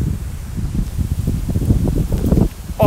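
Wind gusting hard across the microphone, a steady low rumbling roar with rough, fluttering bursts throughout.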